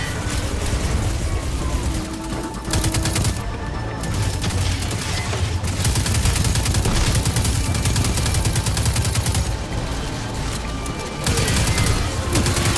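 Dense, continuous automatic gunfire rattles almost without a break while a player shoots at a horde of enemies in the video game Destiny 2, with loud in-game combat effects throughout.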